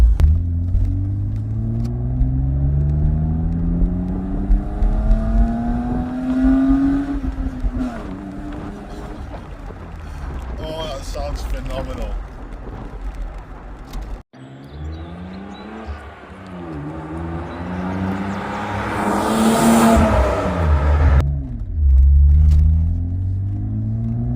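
A naturally aspirated BMW E36 engine revs repeatedly, pitch climbing and falling through several sweeps, loud and close, with a sharp high-pitched wail near the end.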